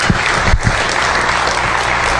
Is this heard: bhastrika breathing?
no